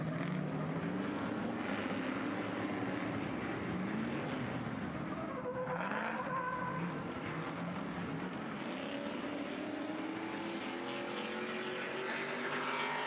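Racing trucks at a Nashville race roar past on the track, a dense, steady engine drone with a rising and falling pass near the middle, with no talk.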